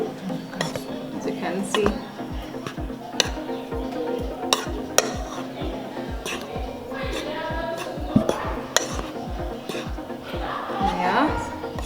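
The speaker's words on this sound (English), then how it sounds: "then we mix with our dry ingredients" Utensil scraping and clinking in a bowl while banana cake batter is mixed with dry ingredients, with regular rhythmic strokes throughout and a person talking over it.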